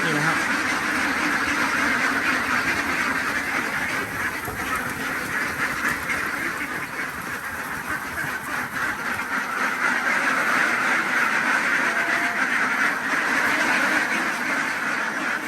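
Laying ducks on a farm quack continuously as a dense, steady flock chorus, loud and close throughout with a constant hissing background and no clear speech.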